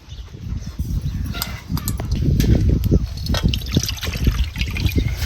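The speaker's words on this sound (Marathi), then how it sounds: "मिरच्या सुद्धा आपल्याला धुवून घ्यायच्यात" Water trickles and splashes in irregular bursts as chillies are rinsed and swished around in a container of water, with soft knocks between pours.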